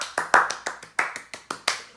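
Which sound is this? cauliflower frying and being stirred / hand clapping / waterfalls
hand clapping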